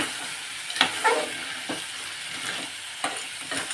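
Utensil scraping and stirring through crab curry in a pressure cooker, with a few brief clinks and a light sizzle underneath, close by.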